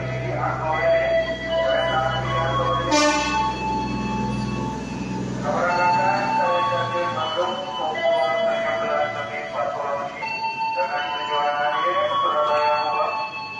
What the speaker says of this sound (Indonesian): Kereta api asal ini sudah tersedia di jalur 3.